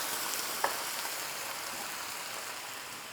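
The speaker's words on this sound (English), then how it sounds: "now we're going to deglaze the pan with 100 milliliter of vermouth" Vermouth sizzling steadily as it deglazes a hot pan for a tuna pasta bake, a continuous bright hiss with a brief sharp crackle near the start and no talking.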